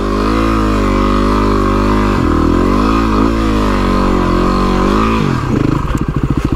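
A motorcycle ridden along a soft sand track in the Otways, its engine droning loud and close with pitch dips and rises as it revs, then breaking into a rough, choppy clatter at the end.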